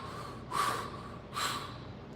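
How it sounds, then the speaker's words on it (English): Heavy breathing into the chest, two loud, breathy exhalations about a second apart over quiet room tone. "it's the other kind of heavy breathing into your chest."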